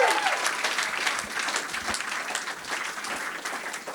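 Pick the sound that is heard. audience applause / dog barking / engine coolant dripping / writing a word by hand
audience applause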